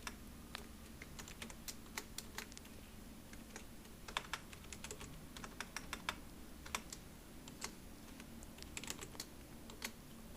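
Continuous typing on a computer keyboard while writing Swift code in Xcode, with irregular bursts of key clicks throughout over a low steady hum, no voices.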